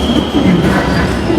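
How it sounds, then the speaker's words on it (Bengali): A Dhaka metro rail train pulling into the Mirpur 10 station, a loud continuous rumble of wheels and cars with a high steady squeal riding over it, close by and without talk. "এখন মেট্রো রেল আসতেছে, আমরা চলে যাব।"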